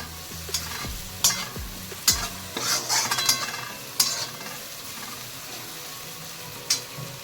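Chopped onion sautés in a pan for a potato bhaji, with a spoon scraping and clinking against the metal in irregular strokes over a soft, continuous sizzle.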